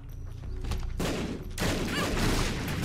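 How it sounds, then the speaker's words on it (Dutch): Rapid overlapping explosion blasts from The Binding of Isaac Afterbirth gameplay, dense bursts that stack into a loud, continuous roar building toward the end. "Oh, zoveel explosies."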